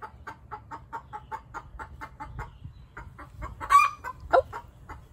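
Chickens cluck in a quick, even run of short calls, then a pause and a few louder, sharper squawks near the end. The calls are close and clear over a faint low background rumble.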